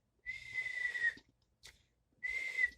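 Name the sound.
whistling imitating a cartoon sound effect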